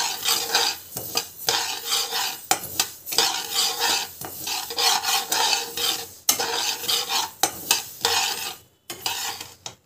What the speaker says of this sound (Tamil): கடுகு வந்து நல்லா வந்து வறுத்துக்கலாம்.